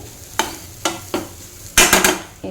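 Carrot and coriander fry cooking in a pan, with a few separate stirring scrapes and a louder burst of sizzling and clatter near the end, close and fairly crisp, no talking.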